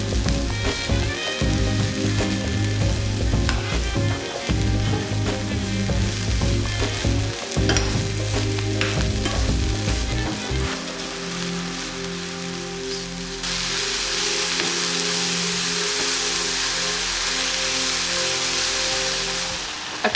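Mushrooms sizzle and fry in a pan for a vegan risotto, with steady crackling and repeated scraping stir strokes close by, the frying settling into a softer continuous hiss toward the end.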